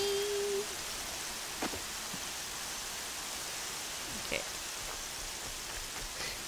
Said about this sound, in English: Love the rain.